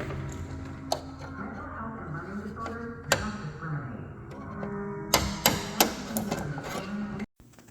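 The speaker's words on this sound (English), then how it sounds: "slowly use a chisel to remove the rest, and then punch the remaining through with a drift pin" Hammer blows drive a chisel and drift pin to knock out bolts on a 1968 Shelby GT500 Mustang during rust-repair disassembly, with sharp, irregular metallic strikes, a quick cluster near the end, over steady background hum.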